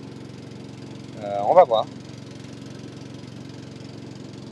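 A steady low engine drone runs throughout, a constant rumbling hum at moderate level, while someone speaks briefly in the middle.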